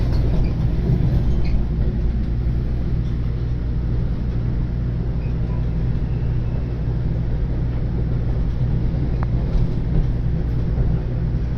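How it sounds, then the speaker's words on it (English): A New Jersey Transit train rumbles past near NY Penn Station, a steady low-frequency roar of wheels and engine that holds at even loudness throughout with no talking. "there's a New Jersey Transit train"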